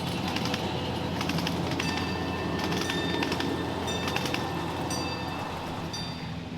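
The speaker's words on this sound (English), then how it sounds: "Ken's Santa Fe F7s can be seen heading over the Salem Junction crossover" Santa Fe F7 model locomotives running on a live steam railroad over a crossover, giving a steady rumbling roll with faint clicks of wheels on track and birds chirping in the background throughout.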